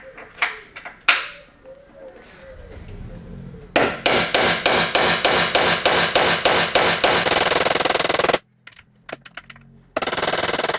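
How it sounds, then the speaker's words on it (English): A hammer drives a driver bit into a rusted bolt on a BMW E46 3 Series front fender. A few separate blows come first, then a long run of rapid, sharp metallic strikes that stops abruptly, and a short burst of taps follows. "now I'm going to try and hammer the bit in just to help it find a home"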